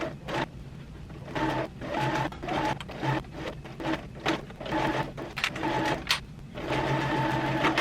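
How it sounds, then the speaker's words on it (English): A sewing machine stitches along the top edge of a strapless dress neckline, running in short bursts of rapid mechanical whirring broken by brief pauses, close and steady, with no talking. "So I match the side seams first and going to sew along the top"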